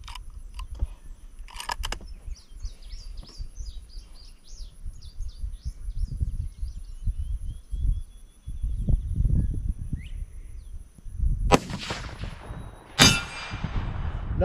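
A .204 Ruger bullet strikes a steel target 400 yards away, heard as two distant sharp metallic smacks near the end over outdoor wind rumble, with birds chirping throughout.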